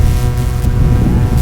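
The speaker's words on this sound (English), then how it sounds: "Very, very stiff gust." A very stiff gust of wind during a 2015 women's varsity eight rowing race between Princeton, Radcliffe, UVA and Cornell. The gust roars loud and steady, buffeting the microphone with a deep rumble throughout, with no speech.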